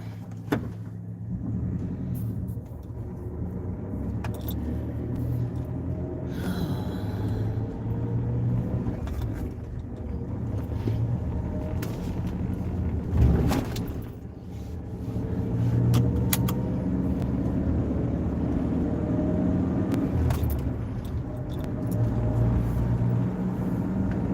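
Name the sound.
car driving on a Wyoming road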